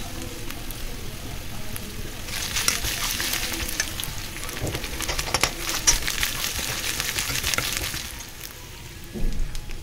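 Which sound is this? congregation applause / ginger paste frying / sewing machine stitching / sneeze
ginger paste frying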